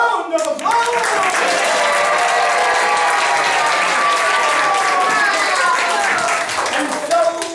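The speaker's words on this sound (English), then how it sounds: "let's have one more heroes round of applause" A children's adventure theater audience claps and cheers loudly and steadily for several seconds, with excited voices mixed into the dense applause before it tapers slightly at the end.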